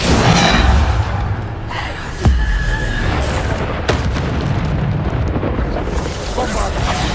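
Spell explosions from the Bombarda spell in the game Hogwarts Legacy, a sharp blast near 2.3 s and another near 3.9 s over a loud, dense rumble of game combat, with a voice shouting spell names throughout.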